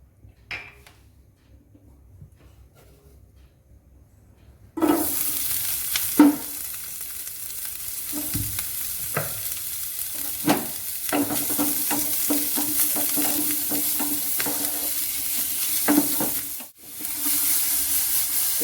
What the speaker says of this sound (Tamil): ஸோ நம்ம முதல்ல இந்த ஒனியனை குக் பண்ணிக்கணும். கோல்டன் ப்ரௌன் வர வரைக்கும் குக் பண்ணிக்கணும்.